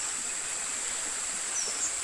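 A stream flows in the Konkan countryside, a soft, even wash of water at moderate distance that stays constant, with no voices.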